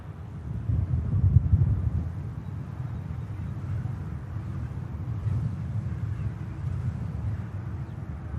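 Blustery wind buffets an open-air microphone at Manchester Airport, a steady low rumble with gusts swelling and easing throughout, loud and continuous with no voices.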